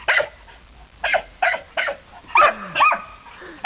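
Two playful dogs, Coco and Kobe, bark close by. Several short, sharp barks come in separate bursts, and the last ones turn into high, squeaky yips.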